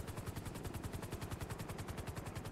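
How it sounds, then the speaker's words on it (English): A helicopter in a video game gives a fast, even rotor chop that pulses steadily at close range, with nobody talking. "Oh, I see your helicopter."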